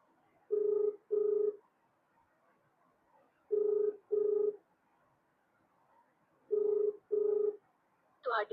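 An unanswered telephone call rings in the caller's earpiece: three evenly spaced pairs of clear electronic ringback tones with quiet pauses between them, ending in a short chirp.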